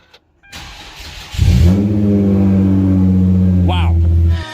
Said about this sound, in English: Let's see how loud this straight pipe is.